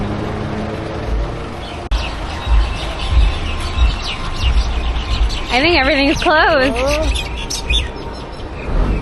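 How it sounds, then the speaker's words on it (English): Outdoor pigeons chirping and calling in short warbling bursts amid street traffic noise near a market in Nadi, Fiji, with a person speaking briefly. "Just a bunch of birds. Bunch of pigeons."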